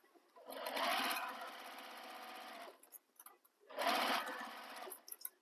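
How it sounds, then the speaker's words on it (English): Two bursts of a sewing machine stitching a seam on a handmade bag, each a steady rapid whir lasting a couple of seconds, starting and stopping with a short quiet gap between, close and clear with no talk. "we're going to sew that starting and stopping at those marks we made."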